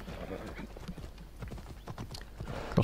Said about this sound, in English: Let's get my horse, slow down so I can just auto-mount him.